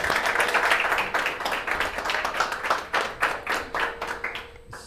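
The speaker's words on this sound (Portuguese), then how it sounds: "salva de palmas" People clap at a political party event, a moderate burst of applause with separate claps audible, thinning out toward the end.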